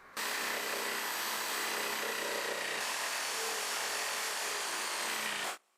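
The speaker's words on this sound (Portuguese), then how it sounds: "Que é cortar com a serra tico-tico e aparar com a tupia." A jigsaw cutting through a wooden board, one loud, steady buzzing rasp that starts abruptly, runs unbroken for about five seconds, then cuts off sharply.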